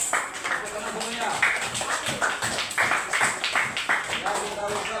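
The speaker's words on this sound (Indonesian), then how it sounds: "Marilah kita tepuk tangan dulu. Tepuk tangan semuanya." An audience claps along during a closing session, scattered rhythmic hand claps of moderate loudness mixed under a speaking voice.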